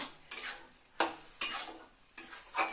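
Cabbage bharta stirred in a pan while its water cooks off: four distinct scraping strokes of a spoon against the pan, close and fairly loud, over a soft sizzle.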